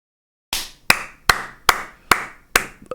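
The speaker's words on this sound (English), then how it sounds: "I gotta clap on this" Six sharp, evenly spaced hand claps ring out one by one after a brief silence, each crisp and close with a short roomy decay, no voices around them.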